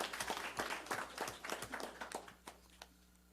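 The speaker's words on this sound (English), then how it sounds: "So give yourself a round of applause, students, for coming out tonight." Students clap at a school board of trustees meeting, a short burst of scattered hand claps that thins out and fades within a few seconds.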